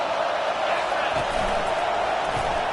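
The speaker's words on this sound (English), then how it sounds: "listen to this crowd roar" Iowa Hawkeyes college football stadium crowd roaring against Oregon during a defensive stand, a steady dense wall of broad crowd noise throughout with scattered claps and whoops.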